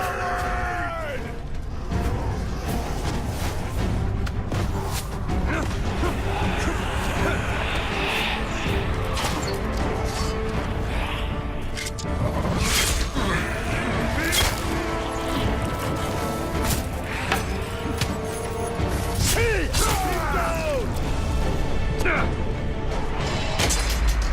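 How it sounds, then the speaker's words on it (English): Heavy crashes, booms and clanking mechanisms as a gate is smashed during a siege battle in Middle-earth: Shadow of War, a dense, loud, continuous game soundscape with shouting voices and a music-like drone throughout. "Destroy the gate!"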